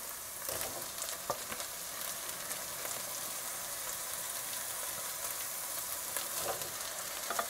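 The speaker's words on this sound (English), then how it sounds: "So I'm going to start putting these tomatoes in there." Tomatoes fry in a hot pan for a Nigerian snack dish, a steady close sizzle with crackling pops and occasional stirring scrapes running throughout, no voices.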